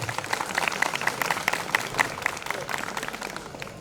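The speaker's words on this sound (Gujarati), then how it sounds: "એકવાર જોરદાર તાળીઓ થઈ જાય બંને દીકરીઓ માટે." A crowd gives rhythmic, fairly quick applause for two daughters at a Bhambhan Patel community gathering, a steady patter of many hands clapping close by that fades slightly toward the end.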